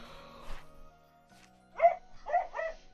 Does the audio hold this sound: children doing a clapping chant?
no